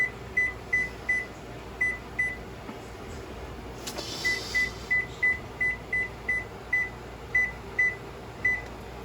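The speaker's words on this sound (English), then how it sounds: "I love these timers." A kitchen timer beeps in short, evenly spaced chirps, steady and repeated in groups, over a low hum of room noise.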